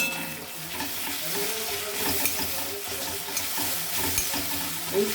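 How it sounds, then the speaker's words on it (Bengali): Ground cumin and coriander masala frying in a pan, sizzling steadily with stirring and scraping throughout, close and moderately loud, with no talking. "জিরে গুঁড়ো, একটু ধনে গুঁড়ো দিয়ে মশলাটা খুব ভালো করে আমি কষিয়ে নেব।"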